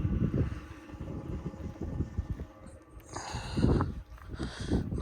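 Gusty wind blows outdoors at a rural building site in early spring with snow flying, a rough low buffeting roar that rises and falls across the whole span, with harsher hissing gusts in the later half.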